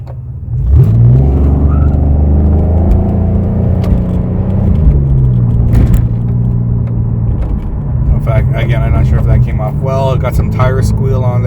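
A 2004–2008 Pontiac Grand Prix with a new Dynomax exhaust pulls hard, its engine rising in a loud, close revving climb through the gears with a deep exhaust drone, while someone talks over it.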